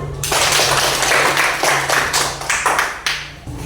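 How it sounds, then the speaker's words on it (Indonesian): Classroom applause for a student group presenting, a few people clapping fairly close, irregular and loud at first, then thinning into scattered claps toward the end. "Tepuk tangan untuk kelompok 1."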